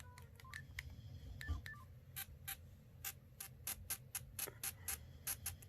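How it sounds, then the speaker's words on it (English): Beeping button tones from a phone that has just been dropped in a drop test, a quick irregular series of short electronic blips over faint background hiss. "You hear the button though."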